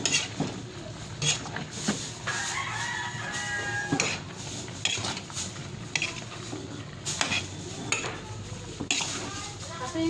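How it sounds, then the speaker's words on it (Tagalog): Pinakbet with bitter melon being stirred in a pan, scraping and clinking of a utensil against the pan under a busy backdrop with a rooster crowing and clucking fowl nearby. "And then haluin natin."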